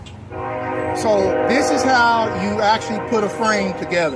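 A passing train sounds its horn in a long sustained blast with wavering tones, heard over someone talking close by outdoors.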